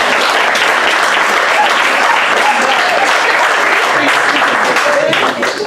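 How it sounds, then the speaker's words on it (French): Audience applause at a Paris comedy club, loud sustained clapping from a packed crowd that holds steady throughout and only starts to ease off at the very end. "je pense que ça s'applaudit"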